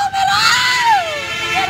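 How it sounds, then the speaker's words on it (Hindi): A grieving woman, the mother of a dead young girl, wails and screams in long rising and falling cries, loud and close, with a tense, distressed tone. "युवती की माँ किस तरह से रो रही है, चीख चीख कर इंसाफ की गुहार लगा रही है वो"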